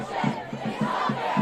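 Crowd gathered outside the US Supreme Court after a leaked abortion-rights report, chanting in a loud, rhythmic shouted cadence of short repeated bursts, many voices together close by.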